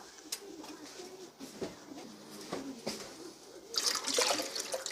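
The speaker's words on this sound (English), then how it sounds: "So let me get some water" Scattered clinks and handling noises, then water pours in a rushing, splashing stream into a cooking pot toward the end, fairly close.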